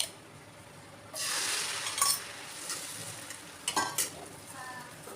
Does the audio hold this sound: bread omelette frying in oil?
yes